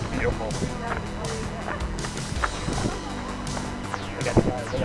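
A dog barks and yips repeatedly in short bursts at an outdoor brewery 5k run, mixed with runners' footsteps, crowd noise and people talking nearby.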